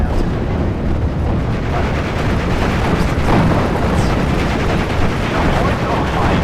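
Artillery fire in the Steel Division: Normandy 44 video game, a dense, loud barrage of booming blasts and crackling gunfire rolling together without pause, with speech partly mixed in underneath.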